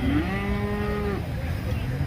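Cattle at the Manapparai cattle market, a large livestock market, give a long, clear, close moo that carries over a steady background hum of the crowded market.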